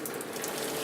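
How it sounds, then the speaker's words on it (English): Free-run juice percolating out of a fruit press and dripping into a large basin, a soft, continuous watery trickle with faint splashes, brief and fairly quiet. "here you can already hear the first free-run juice percolating and dripping into the big basin"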